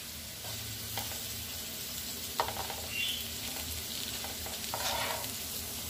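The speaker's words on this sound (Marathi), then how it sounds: "आणि आता हे छानपैकी फ्राय होऊ द्यायचे वन साइडने" Pieces of elephant yam (suran) fry on one side in oil for tandoori suran, a steady soft sizzle with occasional light stirring clicks and scrapes, close and fairly quiet, with no talking.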